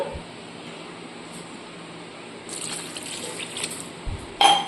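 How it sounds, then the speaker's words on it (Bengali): Water is poured into a cooking pot that already holds fried flour, a soft gushing pour that swells midway and ends with a brief splash, close and moderately loud with no talk over it. "এখানে আরেকটু পরিমাণে দিতে হবে জল"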